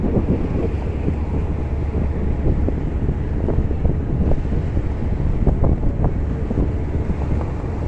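Blustery wind buffets the microphone over the low churn of a boat moving across water in Sai Kung, Hong Kong, steady and fairly loud throughout.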